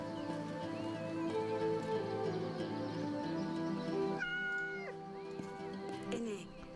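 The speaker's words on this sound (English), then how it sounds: "A black cat." A black cat meows in the video game Yes, Your Grace, a few clear synthetic mews with a short rising call near the end, set over a steady bed of layered game music.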